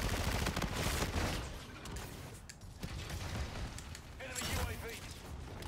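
Rapid gunfire in the Call of Duty Infinite Warfare video game, dense bursts of automatic shots with mechanical clatter, fairly quiet overall, with a person talking over part of it.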